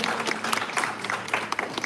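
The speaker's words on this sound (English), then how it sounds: "Give him a big round of applause for everything he does every day" A short burst of applause from the audience at a township meet-and-greet with candidates and judges, clapping close and fairly loud for under two seconds.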